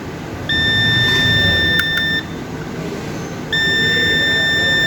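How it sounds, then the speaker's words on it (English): A multimeter in continuity mode, used to test a coil on a laptop motherboard, gives two steady electronic beeps, the first lasting nearly two seconds and the second starting after a short gap, loud and close over faint hum. "Beep."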